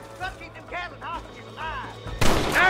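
A single gunshot in Red Dead Redemption rings out loud and sharp near the end, following a stretch of animated chatter from a person talking.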